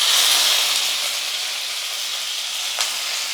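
Curry leaves hitting hot oil with mustard seeds for a South Indian tempering, giving a loud, close, hissing sizzle that eases slightly, with a sharp pop near the end.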